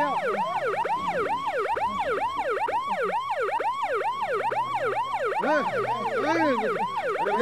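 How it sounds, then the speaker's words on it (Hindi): An ambulance siren wails continuously in a fast rising-and-falling pattern at AIIMS Patna, India, loud and close, with a low vehicle rumble beneath. "एम्बुलेंस आ गया भैया।"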